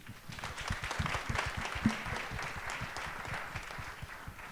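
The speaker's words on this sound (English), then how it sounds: "I'd like for everybody here to give yourself a round of applause" An audience at a plant-based meet-up in Brooklyn gives a round of applause, rapid overlapping claps that swell and continue at a moderate, slightly distant level.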